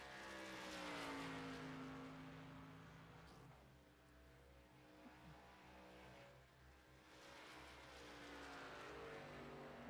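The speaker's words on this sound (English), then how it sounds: "Ricky Mosier already coming out the track in that number 35 car." A race car running laps during qualifying at Chicagoland Motor Speedway, its engine droning steadily with pitch sweeping up and down as it passes, fairly loud and continuous for the whole stretch, with no talking.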